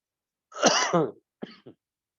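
A couple of harsh coughs close up from a preacher during a sermon, a longer rough burst followed by two short, quieter hacks, with silence around them.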